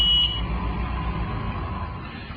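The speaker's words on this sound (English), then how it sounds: "when I break the magic eye, it will make an audible noise, it will beep at us" A Drytac Jetmounter 26 mounting machine gives a brief high beep when its safety eye is broken, then its rollers keep turning with a steady low mechanical hum.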